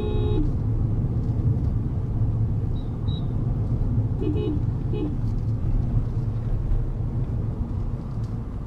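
A car cruising in fifth gear on a road, a steady low engine and road rumble that holds evenly throughout, with a few faint high tones and no voices heard.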